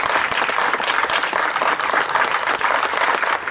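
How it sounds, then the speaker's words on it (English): An audience at a church ministry service claps for police officers, producing dense, loud, sustained applause that holds steady for the whole few seconds, with no voices over it. "Can we give our police officers a big round of applause?"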